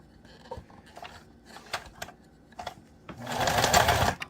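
A sewing machine runs forward in short bursts of stitching, stopping and starting a few times, then settles into a longer, louder continuous run near the end, close up with no talk.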